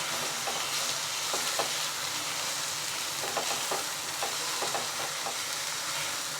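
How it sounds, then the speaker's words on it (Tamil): Amla paste, already boiled and ground, sautéing gently in ghee in a pan for nellikai halwa, giving a steady close sizzle with occasional brief stirring scrapes and no voices. "இப்போ இந்த நெல்லிக்காய் இந்த நெய்யில் லைட்டாக நம்ம வதக்கிக்கலாம்."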